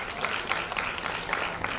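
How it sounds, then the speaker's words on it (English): A launch event audience breaks into a brief round of applause, a fairly soft, steady patter of many hands clapping at once, with no speech over it. "So big round of applause for them."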